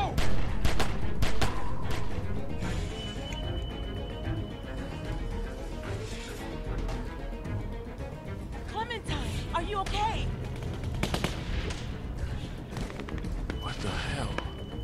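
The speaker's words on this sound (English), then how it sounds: "Who has guns like that?" Gunfire with bursts of machine-gun fire in The Walking Dead game, Season 2: sharp repeated shots in a continuous busy barrage across the whole stretch, with voices and other game sounds mixed in.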